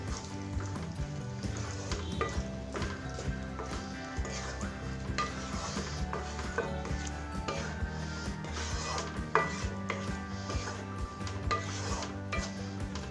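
Cucumber pachadi being stirred after tempered mustard seeds are mixed in, giving a steady scraping and stirring texture that runs throughout, fairly faint against a continuous background of music.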